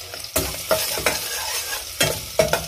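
Aromatics sizzle and get stirred in a hot pan while cooking Filipino ginataang tilapia with kamias, with repeated scraping stir strokes over a steady close frying hiss and no talk.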